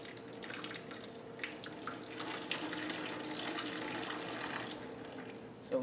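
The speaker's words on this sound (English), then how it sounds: "So we got the water drained," Water trickles and splashes steadily as a PC water-cooling loop is drained, a faint continuous running stream with small drips over a low background hum.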